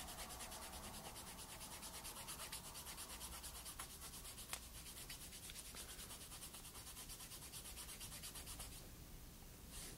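Brass polish is scrubbed back and forth over the pins of an N64 game cartridge in quick, steady rubbing strokes, close but very faint, with no talk.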